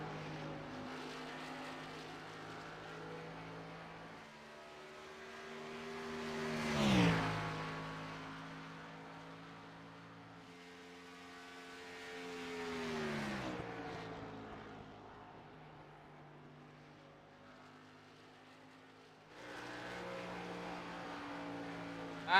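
Race cars lap the Homestead track in a racing video game, their engines swelling and fading as they pass by in repeated waves of droning whine, with one sharper close pass.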